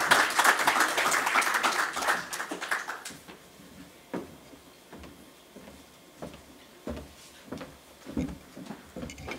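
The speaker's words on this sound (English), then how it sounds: "Please give him a round of applause." Applause for a government minister speaker at a journalism awards ceremony in Namibia builds briefly and then fades within a few seconds, leaving a handful of scattered claps and taps in a quiet hall.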